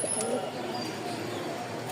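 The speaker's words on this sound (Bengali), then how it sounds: "কবুতরের ডাক খুব সুন্দর" A pigeon coos softly in a brief low call, fairly faint against light background noise.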